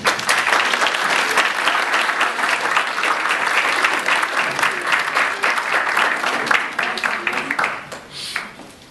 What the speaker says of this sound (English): Please give a warm welcome to my good friend and huge Bengal fan, Kyle Aubrey Greene.